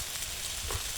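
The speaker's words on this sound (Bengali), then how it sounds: "ভালো করে কাঁঠালটা ভেজে নেব।" Green jackfruit pieces fry in oil, giving a soft, even sizzle that stays faint and unbroken throughout.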